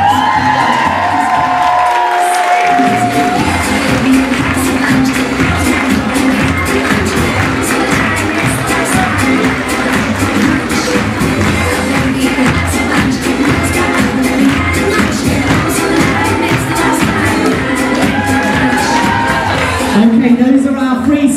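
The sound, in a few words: crowd cheering at body painting parade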